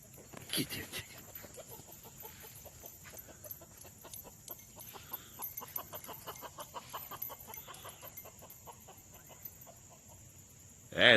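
Chickens cluck in a steady, fairly quiet stream while a herding dog drives them across a farmyard, with a louder burst near the end.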